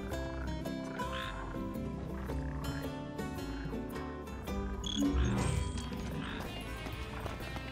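Red frogs croak at a slough in the video game Final Fantasy XV, a steady chorus of croaks blended into a busy, dense layer of game music and ambience.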